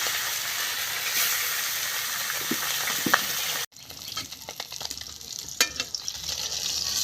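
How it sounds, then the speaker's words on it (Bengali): Tilapia fish frying in hot oil in a village kitchen gives a steady close sizzle and hiss. Midway it cuts abruptly to a lighter, crackling spatter with scattered pops. "তেলাপিয়া মাছগুলো আগে হচ্ছে আর কি ভালো করে বেজে নেব এক এক করে"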